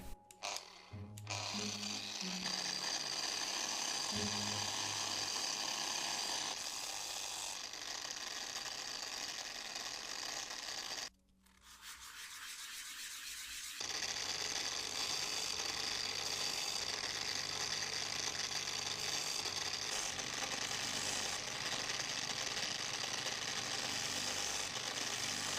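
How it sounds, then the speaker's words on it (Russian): An angle grinder running at its lowest speed shapes a ring made of epoxy resin and driftwood, a loud continuous whine and grinding rasp with one brief stop before it resumes. "Делать это буду с помощью болгарки. Так что включаю на самых низких оборотах."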